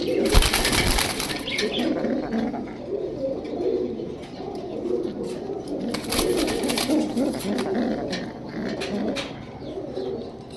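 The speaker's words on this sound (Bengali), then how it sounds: "মাদি বাচ্চা কবুতর" A young female Martin Neck pigeon coos in a steady, close murmur with bursts of wing flapping, the soft rolling calls continuing throughout at moderate loudness.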